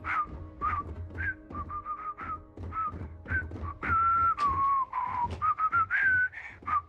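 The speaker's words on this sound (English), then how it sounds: "very bad at whistling" A person whistles a wavering, uneven tune in short phrases with brief gaps, close and clear over a low background hum.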